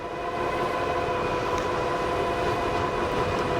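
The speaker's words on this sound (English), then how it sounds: "Motor is fairly quiet, just a little bit noisy once you start accelerating" Steady loud mechanical whir from a 5th Wheel Thunder 2 electric bike motor accelerating uphill at about 19 mph, a rumbling, droning hum with a faint tonal whine, continuous throughout with no talking.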